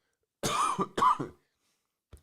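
Two harsh coughs in quick succession, close and fairly loud, followed by silence and a faint soft click.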